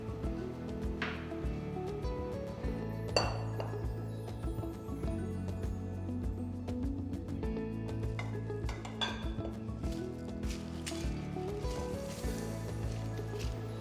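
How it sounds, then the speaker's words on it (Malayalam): Fried chicken, curry leaves, chilli and coconut are tossed together in a bowl for Payyoli chicken fry, giving repeated light clinks and scraping knocks at an irregular rhythm, close and alone. "ഇനി ഇതെല്ലാം കൂടെ ഒരു ബോളിലിട്ട് നന്നായിട്ടൊന്ന് മിക്സ് ചെയ്തെടുക്കാം."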